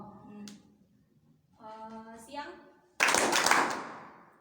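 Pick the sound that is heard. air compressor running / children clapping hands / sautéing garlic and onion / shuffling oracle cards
children clapping hands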